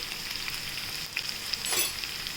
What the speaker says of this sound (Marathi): आणि आता परतून घेऊया